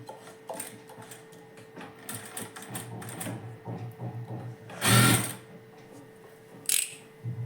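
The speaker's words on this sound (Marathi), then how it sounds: "हे जेवढी आपण पट्टी घेतली तेवढी शिलाई मारून घ्यायची." A sewing machine runs in quick clattering bursts while stitching a blouse strip, its needle mechanism ticking rapidly close by with a steady hum and a few louder handling knocks.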